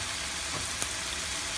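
Boneless chicken thigh pieces frying in oil make a dense, even, hissing sizzle throughout, close and steady, with only a faint tap in the middle.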